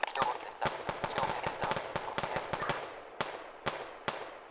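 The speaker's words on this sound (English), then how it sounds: "The firefight intensifies again." Gunfire crackles through a firefight in the video game BattleBit Remastered, a dense run of sharp, loud shots in quick bursts and single cracks that thin out toward the end.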